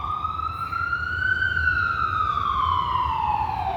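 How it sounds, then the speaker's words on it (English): A wailing ambulance siren rising and falling slowly, fairly loud and steady over low traffic rumble. "don't worry, the ambulance is not for me"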